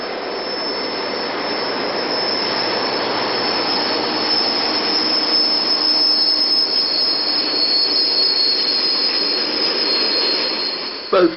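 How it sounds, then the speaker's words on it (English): Salt train wagons roll along the rails, their wheels letting out a loud, sustained, high-pitched squeal that holds steady for the whole passage and ends in a short clunk. "The salt trains run mainly to the Cobra distribution terminal at Middlesbrough."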